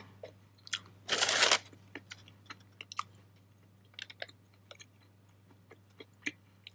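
Someone bites into crunchy popcorn chicken served with a burger, giving one loud, close crunch. Softer scattered chewing clicks and smacks follow in a quiet room, with no talking.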